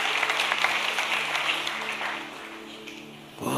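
Applause for Jesus rises from a church congregation, a broad hiss of clapping that holds steady and then thins out near the end.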